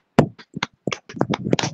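A group claps hands at a women's fellowship intercession prayer meeting, producing a short run of sharp, uneven claps close by, loud against otherwise quiet surroundings.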